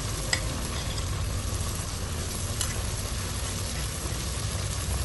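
Ginger garlic paste and green chili fry in a pan for aloo tahari, giving a dense, steady sizzle with occasional stirring scrapes, close and continuous with no talking.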